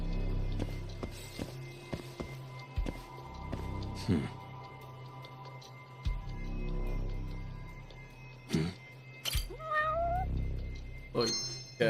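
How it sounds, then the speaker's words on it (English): A stray cat in the video game Judgment meows several times, some calls drawn out and rising, amid soft footsteps and background game sounds, with a person talking at points. "Look, cat. Stray cat."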